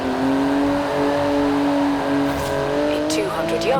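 A Porsche GT2 RS driven in the Forza Horizon 4 racing game, its engine holding a loud, steady tone that shifts pitch near the end with brief tire squeal, under a talking voice.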